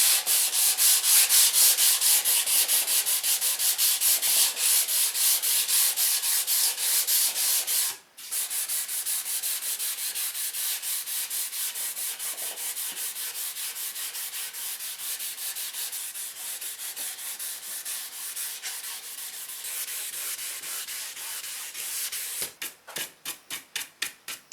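A ukulele fretboard on a Firebird-style tenor build being sanded and polished by hand, close and steady rapid back-and-forth rubbing strokes that pause briefly partway, then resume and end in short separate strokes.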